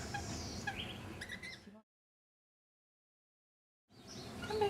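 Birds at a feeding dish chirp and squabble in short bursts, the calls broken by a stretch of complete silence in the middle.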